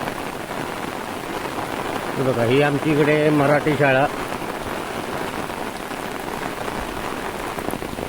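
First monsoon rain in a Konkan village pours steadily in a dense, even hiss on the ground and umbrellas, with someone speaking briefly over it partway through.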